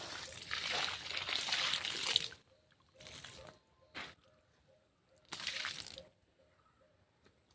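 Mixed liquid fertilizer is poured onto spinach plants in several splashing bursts: one long pour, then shorter sloshes separated by quiet gaps, close and fairly soft, with no talk.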